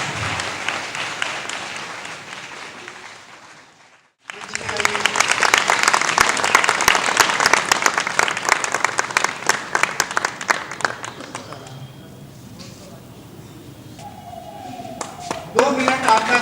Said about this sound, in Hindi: एक बार इस पूरी टीम के लिए 2 मिनट जोरदार तालियां चाहिए